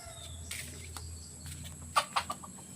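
A labuyo junglefowl chick or young bird gives a few short, sharp chirps near the end, against a steady low hum and faint insect-like background.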